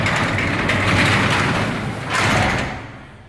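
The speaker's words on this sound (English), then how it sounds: "I'm going to open the door" A plain, uninsulated steel garage door rattles and grinds as it is rolled open, a continuous metallic rumble with a louder surge near the end before fading.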